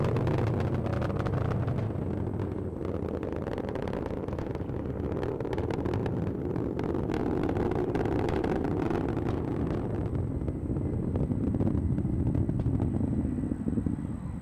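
The Vulcan rocket's BE-4 engines roar during launch ascent, a steady distant low rumble that holds evenly throughout, with no other sounds.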